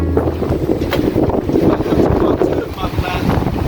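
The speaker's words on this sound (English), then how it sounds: "naturally this caused the wind to get worse" Strong wind buffets a harbour, a loud, continuous rumbling roar with gusty surges pressing close against the microphone throughout.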